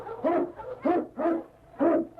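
Eskimo lead dog King barking in a radio drama, four loud, close woofs in an uneven rhythm against a quiet background.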